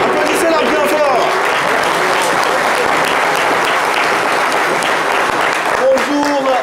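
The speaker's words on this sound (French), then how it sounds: "Applaudissez-la bien fort." A French television studio audience bursts into loud, sustained applause as a guest is welcomed onto the set, dense clapping filling the whole stretch with a few voices rising through it.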